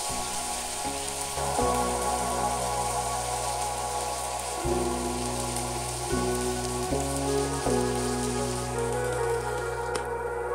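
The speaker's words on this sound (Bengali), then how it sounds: "এই পাশেও আমি 10 মিনিট ঢেকে রেখে ভেজে নিচ্ছি" Tandoori chicken fries in a covered pan, a dense, steady crackling sizzle like rain on a surface over a low, shifting background hum.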